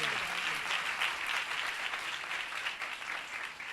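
Steady, dense applause from a church congregation, filling the whole stretch without pause.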